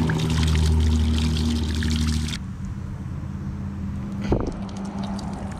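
Fluid pours out of an opened drain valve on an abandoned 1980 Datsun 720, a loud gushing stream for about two seconds that drops to a faint trickle with a brief knock near the end.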